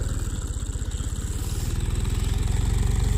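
A tractor engine chugs steadily at night in the fields, its low, even throb close and continuous with a slight rise in loudness toward the end.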